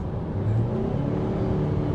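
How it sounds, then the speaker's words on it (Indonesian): A 2020 Wuling Cortez CT Type S with a turbocharged engine accelerates under full throttle, a loud, steady engine drone heard from inside the car during a brief burst of acceleration. "ketika Anda injak gas penuh"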